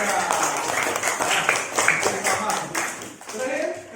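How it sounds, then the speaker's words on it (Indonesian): A classroom group claps for group 3, scattered hand claps spread across the whole stretch with voices of students mixed throughout. "Tepuk tangan untuk kelompok 3."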